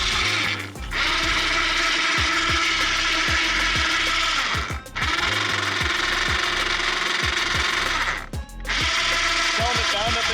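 A newly installed, faulty winch spins with a loud, close mechanical whine and rattling knock, running steadily for about ten seconds but briefly cutting out three times.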